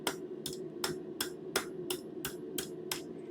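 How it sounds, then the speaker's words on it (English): A blacksmith hammers hot steel into a curled J hook, nine sharp ringing strikes at an even, brisk pace, close and clear with no voices. "So we're gonna hammer a little bit further."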